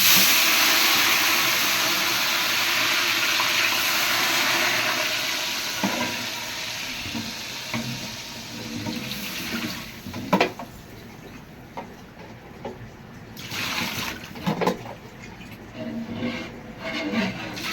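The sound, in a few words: water being poured into a pan while making kesari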